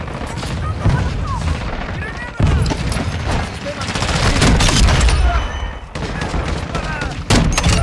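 Dense gunfire from Call of Duty: Modern Warfare, rapid automatic bursts and heavy booms in continuous fusillades, loud and close, with a player talking over the shooting.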